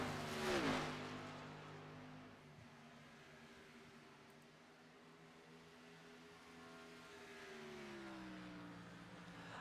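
Stock cars on the final lap of an Xfinity Series race at Kansas, a loud engine roar that swells early, eases, then rises again as the cars pass, with a steady droning harmonic whine throughout.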